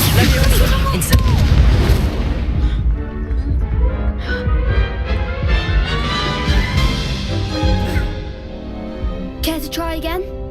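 An Incendio fire spell bursts during a Hogwarts Legacy duel, a series of deep booming blasts and whooshes with layered magical effects and game music, loud and close, while a voice speaks over parts of it.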